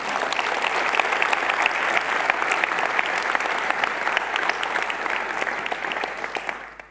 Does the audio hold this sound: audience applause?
yes